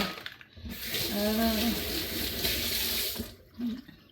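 Tap water runs steadily into a sink as hands are washed nearby, a continuous close splashing stream that stops near the end, with brief vocal sounds mixed in.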